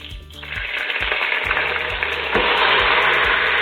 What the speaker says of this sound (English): So today I'm going to deglaze because I like the flavoring with a little bit of apple cider vinegar.